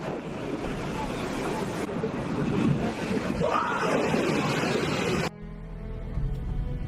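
Powerful ocean surf crashes in a continuous roaring wash, heavy with gusting wind buffeting the microphone, loud and close before cutting abruptly to a much quieter, hissing tail.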